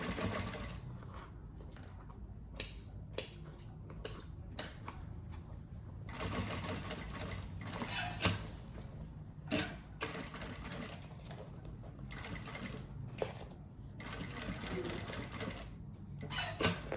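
A sewing machine runs steadily while stitching a seam on a toiletry bag, close and fairly quiet, its rapid mechanical chatter broken by a few sharp clicks and short pauses.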